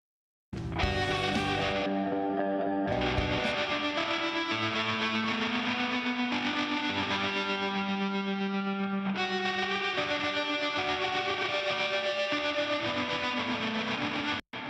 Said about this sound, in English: There's way too much reverb on that guitar.